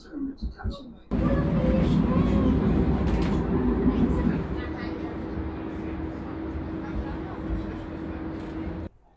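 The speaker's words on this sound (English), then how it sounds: "there's my tram behind me" A tram in East Croydon, a steady rumbling hum with a tonal motor drone that swells in after a brief pause and holds loud and close, easing slightly partway through, with someone talking at the start.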